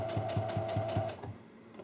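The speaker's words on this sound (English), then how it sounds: "So I'm just going to sew over this really, really, really close to the edge." A sewing machine stitching fabric close to the edge, running in a quick steady mechanical rhythm, then stopping, close and moderately loud.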